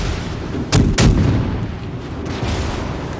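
Naval guns firing in the video game World of Warships Legends: two loud booming shots in quick succession, then a long rumbling decay under steady battle noise.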